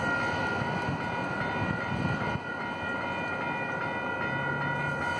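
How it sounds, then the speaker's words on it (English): An MBTA commuter train approaches the Moody Street crossing in Waltham, Massachusetts, with a steady rumble and humming tones. A low droning tone rises near the end. "now we have another train coming"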